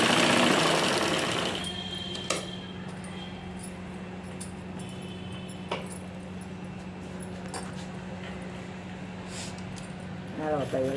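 A sewing machine runs a short burst of stitching along the top of a lined blouse, then gives way to a low steady hum and a few clicks while someone talks.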